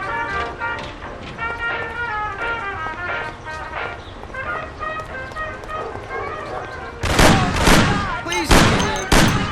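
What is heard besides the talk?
gunfire in the Mafia video game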